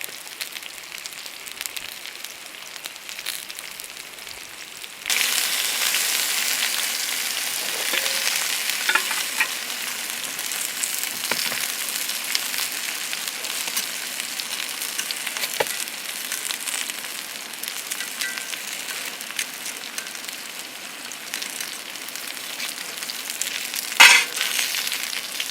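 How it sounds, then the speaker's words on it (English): Steady crackling sizzle of potatoes frying in a pan, fairly close, growing louder after a few seconds and continuing without pause. "There's our taters frying in there."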